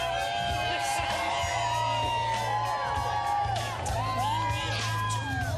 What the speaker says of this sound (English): we've got a nice crowd on a beautiful early fall morning here in Manhattan